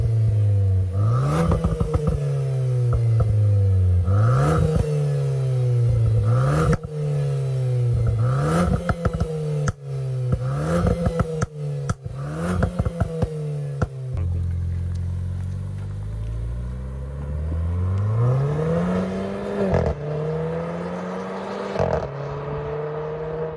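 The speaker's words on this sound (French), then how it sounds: "tu nous fais un petit démarrage." A car engine revs hard again and again in quick bursts, loud and close, then settles into a lower, slower rise and fall.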